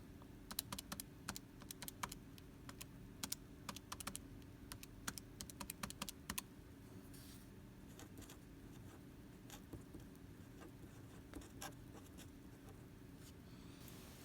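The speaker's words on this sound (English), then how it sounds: "I am only typing these in calculators once" Rapid, irregular clicks of fingers tapping a calculator keypad while working geometry homework, close and crisp, with bursts of keypresses followed by quieter pauses and no talking.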